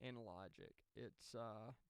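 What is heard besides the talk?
No everyday noises stand out.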